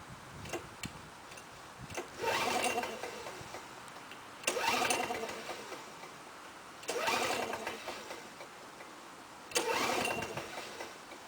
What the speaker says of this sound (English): let's see if this Lawnboy will start after 14 years